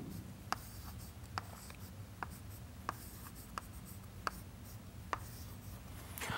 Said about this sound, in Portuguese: Então, vou escrever isso aqui.